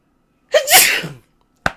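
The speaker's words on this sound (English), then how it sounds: "How do you sneeze?" A single sneeze, loud and close, with a rising voiced onset and a breathy burst, followed after a short pause by a sharp brief sound.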